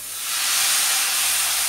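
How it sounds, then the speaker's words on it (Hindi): Vinegar poured into a hot pan of Chinese chicken rice with crushed black pepper and chili sauce peppers sets off a loud, steady steaming hiss that rises quickly and holds broad and close for the short moment. "अब इसमें मैं विनेगर ऐड कर देती हूँ"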